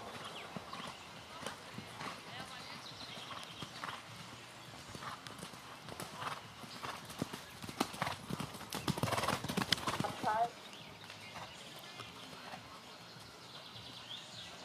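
Steady rhythmic clip-clop of horse hooves as a horse is ridden on a circle in a riding arena, with a brief whinny and faint birds in the background, fairly distant and soft.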